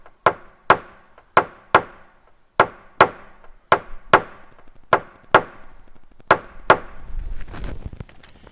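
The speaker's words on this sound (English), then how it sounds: "I can do a little tappy right up here, right where it pretty much pinches the most." Sharp metallic taps ring out as a hammer and tool work a dent out of a car body panel with no repainting, a dozen or so crisp strikes in an uneven rhythm, close and loud, before a low rumble of handling noise at the end.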